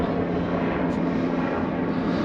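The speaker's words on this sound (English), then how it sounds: "Hopefully you can hear me over the helicopter." Steady low engine drone of a helicopter flying overhead at Llantwit Major beach in South Wales, holding constant throughout with no voices.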